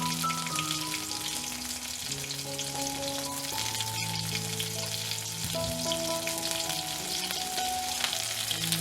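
Small onions and green chilli frying in hot oil in a pan for aloo poha, a steady close sizzle running throughout with background music playing over it.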